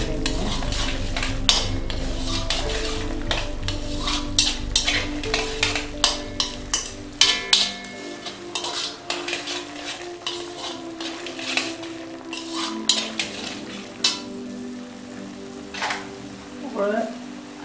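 Soya chaap being stirred and mixed with chilli, dry coriander and spices in a Punjabi-style pan, with a steady sizzle, repeated clinks and scrapes of a spoon against metal, and no voices.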